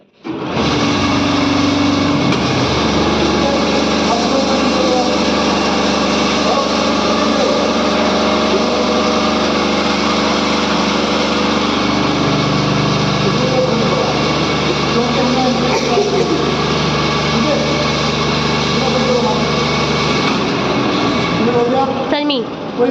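An AC-DC motor-generator set running in a training lab, a loud, steady mechanical whine and hum that holds constant throughout, with a slight shift in pitch partway and a brief drop at the very end.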